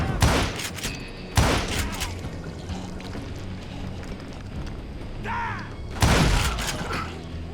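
Gunfire from a shootout in the video game Call of Juarez Gunslinger, sharp loud bursts of shots at the start and again near the end, with a quieter gap of ambient game sound between them.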